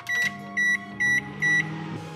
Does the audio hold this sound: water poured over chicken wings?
no